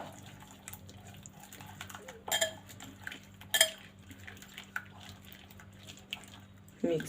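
A spoon stirs a pinch of red food colouring into chicken marinade in a bowl for steamed roast chicken, giving a few sharp, close metallic clinks spaced seconds apart over a steady low background hum.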